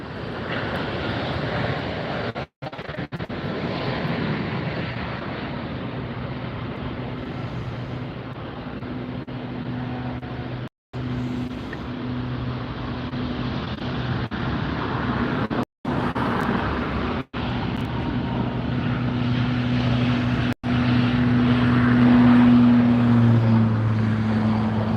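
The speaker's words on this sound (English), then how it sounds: "There goes the Lufthansa A380." A Lufthansa Airbus A380 superjumbo passes at Los Angeles airport with a steady, sustained engine roar and low drone that swells slightly toward the end.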